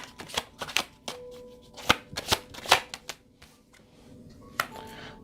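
Tarot cards are shuffled and drawn, with sharp riffling snaps and flicks arriving in irregular bursts, close and crisp, with no voices.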